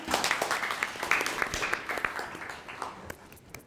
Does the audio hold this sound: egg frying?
no